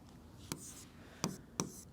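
Pen strokes on paper while a maths solution is written out by hand, three short scratchy marks spaced apart, close and quiet, with no talk.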